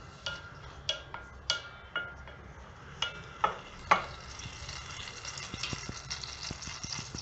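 Chopped onion sautéing in a pan for soya tikki, a soft steady sizzle with a few sharp clicks of a spoon stirring against the pan, close and fairly quiet, with no talking.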